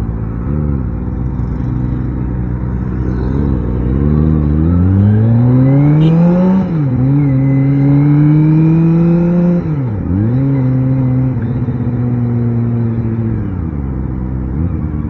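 A Kawasaki Ninja ZX25R motorcycle engine revs up and shifts through gears while riding, loud and close with rising and falling pitch sweeps and steady wind-like roar.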